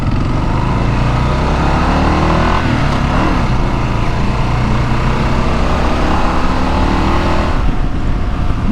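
Kawasaki KLR 650 motorcycle being ridden, its single-cylinder engine giving a loud, steady, rough thrum with a slight rise and fall in revs throughout, close up and with heavy wind rush and no speech.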